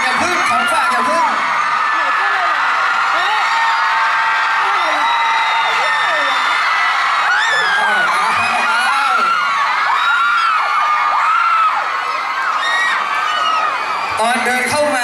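A concert crowd screams and cheers in a dense, continuous wall of high shrieks and whoops, loud and sustained throughout.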